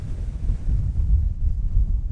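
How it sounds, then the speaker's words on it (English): Strong wind buffets a microphone on a hilltop peak in the Lake District fells, a steady low roaring rumble with no other sounds. "It's windy, so I hope the microphone is picking it up"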